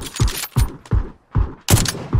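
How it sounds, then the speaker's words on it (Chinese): Rifle gunfire in a shooter video game comes as a rapid string of about six sharp, booming shots with short gaps between them, loud and close, with no talking. "那个狙开枪"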